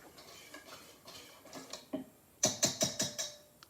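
Savory waffle batter for beef brunch waffles is stirred in a bowl, with soft scraping at first and then a quick run of sharp, rhythmic spoon clinks against the bowl, close and fairly quiet.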